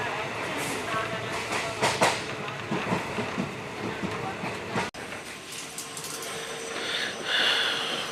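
A passenger train on the Bathinda to Fazilka line in Punjab rolls along the rails with a continuous rumble and rattling clatter, heard from on board at a steady, fairly loud level.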